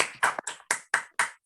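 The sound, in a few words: online meeting participants clapping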